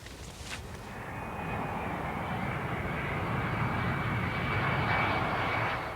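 A fixed-wing aircraft passes near Dublin Airport, its engine a steady, loud roar that swells slightly as it goes over and dominates six seconds of outdoor sound with no voices.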